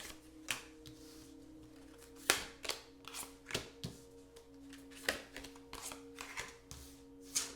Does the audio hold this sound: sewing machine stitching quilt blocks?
no